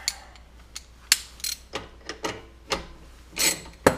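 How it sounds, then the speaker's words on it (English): A socket wrench with an extension works small engine bolts loose, giving a series of irregular ratcheting clicks and metallic rubs, close up and fairly sharp, with short pauses between bursts. "Now once I get them loose, I just screw them with my extension in my socket."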